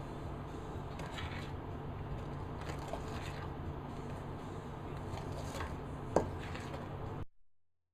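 Spoon working a first cup of flour into thick chocolate chip cookie dough, a steady scraping, crunching churn with a sharper clack near the end, close and alone.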